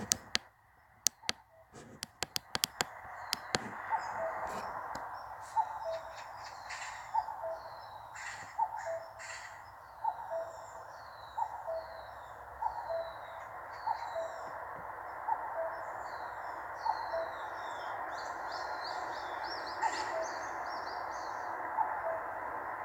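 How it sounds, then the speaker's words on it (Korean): Repeated two-note cuckoo calls ring out at a steady pace, with magpies and other birds chirping and trilling in the background after a few sharp clicks at the start, in the morning. "뻐꾸기 소리가 굉장히 아름답게 새들 여러 가지가 섞여 들리는데"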